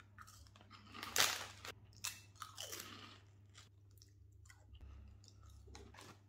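Golden Wonder Ringos Spicy Thai flavour crisps are crunched close up, with several loud, sharp bites followed by a run of softer chewing crunches over a faint low hum.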